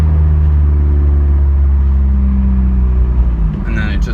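Straight-piped 2015 Subaru WRX under heavy throttle, a loud, close, deep droning exhaust rumble that holds steady before easing off near the end.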